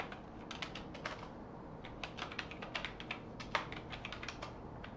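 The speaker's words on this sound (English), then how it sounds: "might as well just type it in" Typing on a computer keyboard, a steady run of quiet, close key clicks in an uneven rhythm, with no voices.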